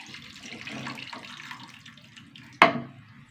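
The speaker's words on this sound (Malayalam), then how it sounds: "ഇനി ബാക്കി പുളിവെള്ളം കൂടി ഒഴിച്ചു കൊടുക്കും" Liquid splashes and trickles into a pan for a few seconds, ending in a sharp clatter near the end, close and fairly quiet.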